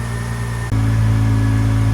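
A car engine idles steadily after a jump start, a close, even hum that shifts to a slightly different pitch partway through.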